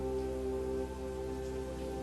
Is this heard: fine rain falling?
yes